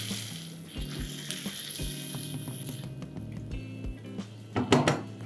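Half a cup of water goes into a hot pan of spiced broccoli curry, bringing a soft watery sizzle and bubbling, with clinks of utensils and a louder splash near the end.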